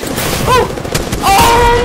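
Gunfire and explosive effects from the Apex Legends battle royale game sound loud and dense over a short span, with swirling ability tones layered over the shots.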